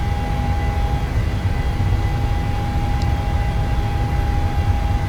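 A PMDG 737 on its takeoff roll in Microsoft Flight Simulator 2020, a constant loud engine roar and rumble with a steady whine running underneath, no voices.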